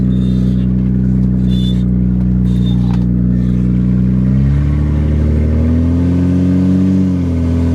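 A BMW E30 engine with a hard-starting, flooding problem idles with a steady low rumble, then revs up and settles back, loud and close with no talking.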